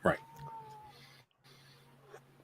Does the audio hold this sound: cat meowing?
yes